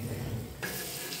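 Besan batter with onion, coriander, turmeric and spices frying in oil on a griddle, giving a quiet, steady sizzle with faint stirring, no talk.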